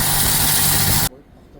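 A Tornado grain crusher driven by a Titan motor runs with a loud, steady mechanical hum and vibration, then cuts off abruptly about a second in, leaving only faint background noise.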